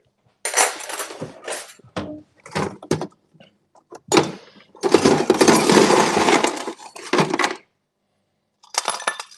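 A metal spring from a whisk drops into a metal cocktail shaker, giving bright clattering rattles and clinks in a series of short bursts, one longer jangling stretch in the middle, close and alone without talk.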